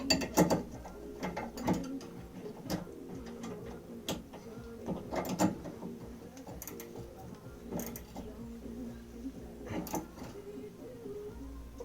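Ratchet clicks in short bursts while tightening the coilover bolts on a Mini Cooper R50 being fitted with BC Racing RM coilovers, with light metallic workshop clatter between strokes.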